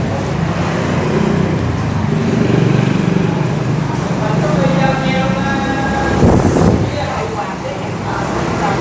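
A blue 2024 Honda Dream NCX motorcycle engine idles steadily at close range, a continuous low running drone with a brief louder swell partway through, heard under the murmur of a shop setting.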